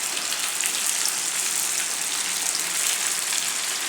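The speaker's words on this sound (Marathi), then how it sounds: "आता आपण हे कटलेट ह्या तेलात सोडून घ्यायचे। शॅलो फ्रायच करायचं आहे" Veg cutlets shallow frying in hot oil in a pan give a steady, dense sizzle and crackle, even and close throughout with no voices.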